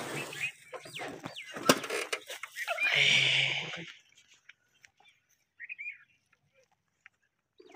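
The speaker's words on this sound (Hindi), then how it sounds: "बुलबुलें बहुत है, आवाज़ बहुत आ रही है" Bulbul birds call in a forest, a few quick chirps and whistles early on, then a brief rustling burst, followed by quiet with sparse faint calls.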